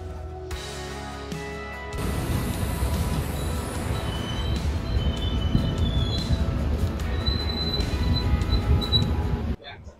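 A Shalimar–Puri Superfast Express (12895) train near Puri, with a steady, loud rumble of rolling rail wheels and high-pitched squealing tones throughout, ending abruptly.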